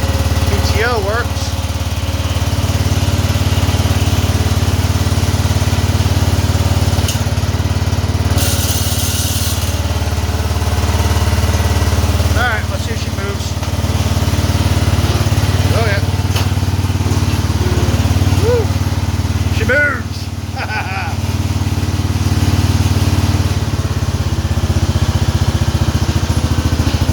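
The engine of a Cub Cadet lawn tractor runs loudly and continuously with the PTO engaged, a steady mid-pitched drone with some rattling. A voice speaks briefly over it.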